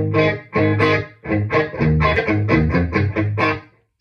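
Electric guitar played through a Vox Valvetronix VT40X 40-watt combo amplifier with a 10-inch speaker, set to its distortion channel: loud, gritty chords and riffs in rapid bursts that keep going without a break, ending in a brief silence.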